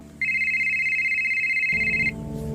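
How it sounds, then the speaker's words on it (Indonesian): A mobile phone rings with a bright, steady electronic tone held for nearly two seconds, loud and close, then a lower buzzing tone takes over toward the end; no one speaks. "ia menemukan sebuah ponsel berdering"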